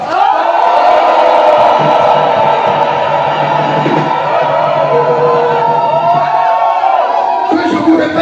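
A congregation shouts and cheers together in a loud, dense, sustained roar that fills the whole stretch without pause during a French-language church sermon.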